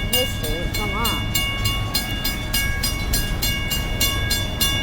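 An empty BNSF coal train rolls past some distance away below a weedy slope, a steady loud rumble with regular wheel clatter, while voices can be heard briefly at the start.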